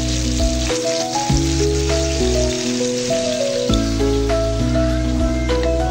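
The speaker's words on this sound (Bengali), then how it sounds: "এখন খালি মাছগুলো ভেজে নিতেছি" Rohu fish pieces fry in oil with a steady hissing sizzle, partly buried under loud music playing throughout.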